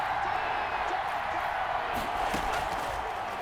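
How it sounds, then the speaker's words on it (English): Stadium crowd in the football game Madden NFL 21 roaring ahead of a big third down: a dense, continuous wash of cheering and whooping at steady volume, with a commentator's voice faintly mixed in. "The crowd getting into it"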